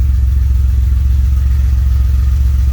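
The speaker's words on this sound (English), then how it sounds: "She's up to operating temperature. Idling at about 750." A 1981 DeLorean DMC-12 engine idles steadily at operating temperature around 750 rpm, a close, loud low throb with an even, pulsing rhythm and no voices.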